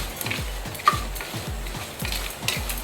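Coriander seeds and cumin crackle and sizzle in a hot pan for gongura podi, with a steady frying hiss under soft scraping and stirring clicks, close and moderately loud, no voices.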